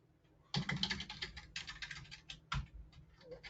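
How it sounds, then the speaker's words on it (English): Keys clatter on a Japanese computer keyboard in a quick close burst of typing, with a few separate heavier keystrokes and short pauses. "Oh, this Japanese keyboard."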